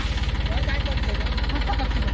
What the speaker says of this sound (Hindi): इसमें ट्रैक्टर आ चुका है और यह ट्रैक्टर आप देख रहे हैं कि यह ट्रैक्टर थ्रेसर है।